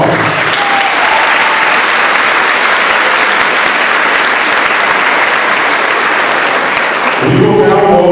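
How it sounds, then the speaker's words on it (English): A crowd at a Locke High School ceremony gives loud, sustained applause, a dense wash of clapping for most of the stretch before it tapers into a voice. "Let's give everyone a round of applause."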